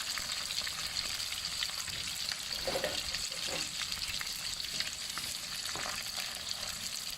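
Shrimp frying in oil over a gas flame at fairly high heat for chilli-salt prawns, a constant fine crackling sizzle with a few faint stirring knocks, and no one speaking.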